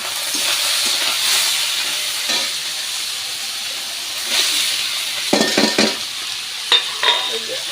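Fish sizzling in hot oil in a pan while being cooked for a Bengali chorchori, a steady frying hiss with stirring bursts and brief clatter near the end, close and fairly loud.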